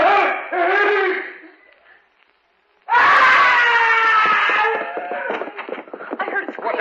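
A loud, drawn-out scream from an old-time radio horror drama: a harsh anguished wail, a pause of near silence, then a second, longer shrieking outburst that trails off into rough, ragged cries.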